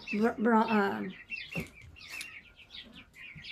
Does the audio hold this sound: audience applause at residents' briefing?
no